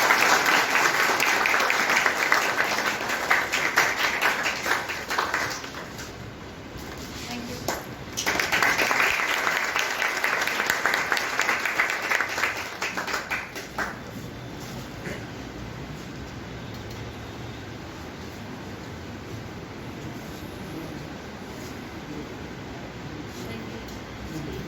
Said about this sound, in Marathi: सर्वांनी एकदा जोरदार टाळ्या वाजवून